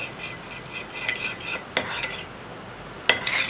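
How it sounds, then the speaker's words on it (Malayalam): A spoon stirs sauces with a splash of vinegar in a small bowl, close clinks and scrapes of metal against the dish in an uneven rhythm, with no voices. "ഇനി നമ്മളിതൊന്ന് നന്നായിട്ട് മിക്സ് ചെയ്ത് വയ്ക്കുക."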